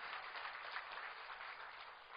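At Sarang First Church in Korea, the congregation keeps up a sustained, even round of clapping that fills the space without any voice over it.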